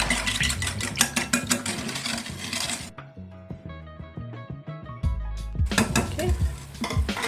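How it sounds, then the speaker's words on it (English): Custard with vanilla extract whisked in a bowl for croissant bread pudding makes rapid, bright clinking strokes, pausing briefly while a tonal background hum sounds, then resuming its fast rhythmic tapping. "I'm just going to whisk this up."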